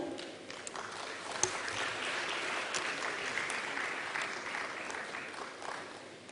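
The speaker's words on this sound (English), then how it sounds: "Let your applause reflect your energy levels, please." Conference audience at a Cambodian convention applauding steadily, a broad continuous wash of many hands clapping throughout, loud and even with no pauses.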